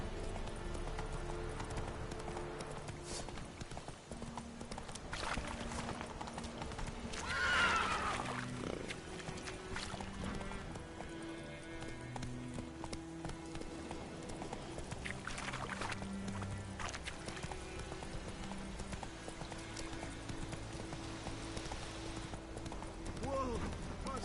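A horse gallops in The Witcher video game, its hooves clip-clopping in a steady rhythm beneath game music and ambience, with a brief whinny-like burst partway through.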